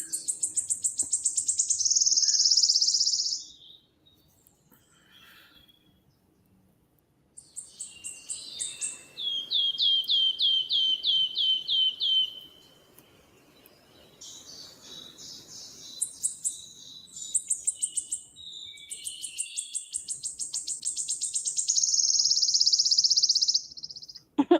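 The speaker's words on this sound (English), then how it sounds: "in this video, that the birds are singing, they're all happy and go lucky" Outdoor birdsong with bright, rapid chirps and trilled phrases recurring in bursts across the scene, alongside an insect-like high buzzing, fairly loud and close, with brief quieter gaps between runs.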